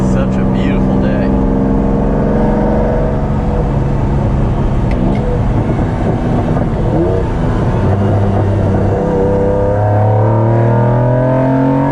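A 1992 Lamborghini Diablo engine droning steadily from inside the car on a drive, loud and continuous with rising and falling revs throughout.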